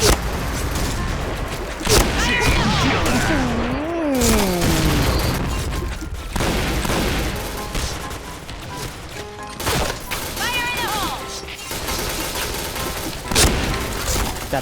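Heavy, sustained gunfire and explosive booms in a Point Blank deathmatch on a new map, loud and nearly nonstop, with a voice talking over the shooting at times.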